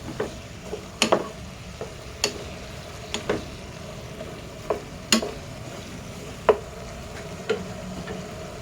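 A spoon scrapes and knocks in a pan of afritada cooking on the stove, giving a series of sharp irregular clicks and taps over a soft steady sizzle, with no talking.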